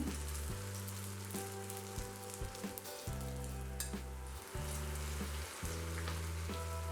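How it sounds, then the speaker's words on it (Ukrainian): Steady, loud sizzling of potato pancakes (deruny) frying in hot oil in an uncovered pan, a dense crackling hiss that continues throughout with no voices. "І смажимо так, не накриваючи кришкою до рум'яної скоринки з обох сторін"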